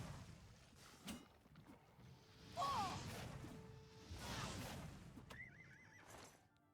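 A horse in the video game Oblivion Remastered lets out a single clear whinny midway, with soft hoof clops and faint game ambience around it at low volume.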